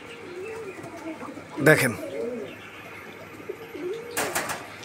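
Fancy pigeons in a sale loft give soft, rolling coos, close by, while someone talks over them. Two sharper bursts of clatter break in partway through and near the end.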